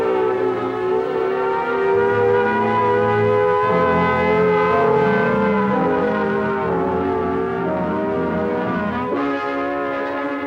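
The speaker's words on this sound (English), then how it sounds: "the alert will be a warbling siren blast lasting 3 minutes." A loud, continuous air raid siren wails with a steady, slightly warbling tone and rich harmonics, sounding alone without any voices.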